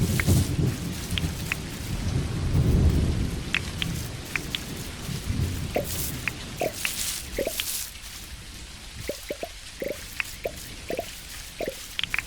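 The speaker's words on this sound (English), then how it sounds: "This is actually a pretty big storm" A heavy thunderstorm rolls through the video game Dinkum, with rain pouring steadily and a deep rumble of thunder early on, then sharp drips and raindrops tapping on surfaces as the downpour continues.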